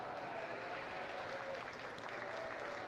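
Steady applause from a crowd at a county fair livestock arena, rising for the winners of a show class. Continuous, even clapping that sounds a little distant and faint, with a murmur of voices mixed in.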